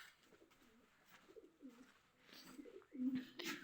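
Young pigeons coo softly in a loft in repeated low warbling phrases against faint background noise, with a slightly louder coo near the end.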